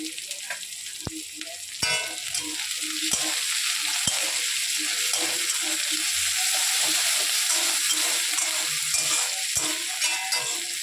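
A spice masala fries with a little salt in a pan, making a continuous close sizzle with occasional sharp taps and scrapes of a spoon throughout.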